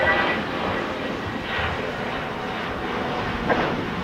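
JetBlue airliner at Los Angeles International Airport, a broad steady jet engine roar at moderate distance, swelling slightly now and then, with faint voices underneath.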